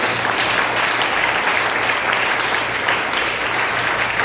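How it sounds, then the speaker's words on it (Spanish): Church congregation applauding together during a Sunday service, steady dense clapping that fills the whole stretch at an even loudness with no pauses. "Denle un fuerte aplauso al Señor de la gloria."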